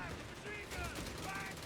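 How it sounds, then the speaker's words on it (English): Machine gun fire rattles in quick bursts in the World War II strategy video game Company of Heroes 3, heard under a commentator's voice. "Light machine gun on the flanks, duking it out with the"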